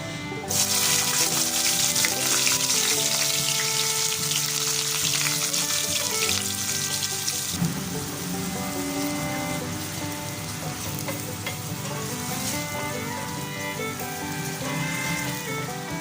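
Onions and garam masala sizzle and fry steadily in a pan for a chicken gravy, a continuous loud crackling hiss with no voices, the tone shifting slightly partway through as the onions go in.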